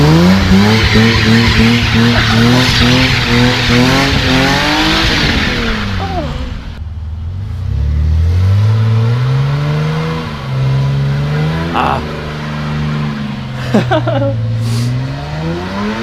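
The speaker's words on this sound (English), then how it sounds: "The E30 will drift." BMW E30 car drifting with loud, sustained tire squeal over a revving engine, the pitch sweeping up and down as the car slides, close by and continuous.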